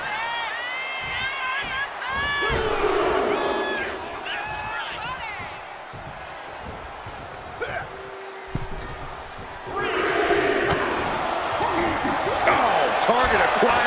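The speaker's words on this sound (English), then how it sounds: "Jacob Fatu feeding off the crowd, feeding off their energy." A wrestling arena crowd roars and cheers during a WWE Raw match, a dense wall of shouting and whoops with loud thuds from the ring. The noise swells again near the end while commentators talk over it.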